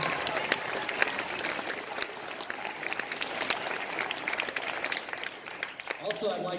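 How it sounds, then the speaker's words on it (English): Applause from a school audience at a middle school honor society induction ceremony, a steady wash of many hands clapping throughout, with some voices mixed in and the clapping thinning toward the end. "Let's give another round of applause for our students."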